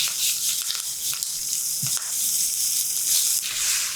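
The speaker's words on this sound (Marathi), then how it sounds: "काय खमंग फोडणी बसली आहे" A tempering of crushed ginger, chopped green chilli and curry leaves sizzles in hot oil for a potato bhaji, giving a bright, hissing crackle that swells and eases with occasional stirring.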